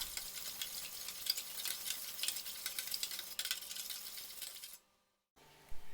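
Close whisking of bun dough ingredients with an egg in a bowl, a busy, rapid scraping and tapping that stops abruptly, followed by a brief soft knock.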